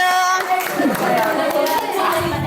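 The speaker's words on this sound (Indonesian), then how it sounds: "Tepuk tangan untuk kelompok 7" Classroom applause for a student group, with hands clapping close by amid children's voices and chatter, under a sustained tonal hum.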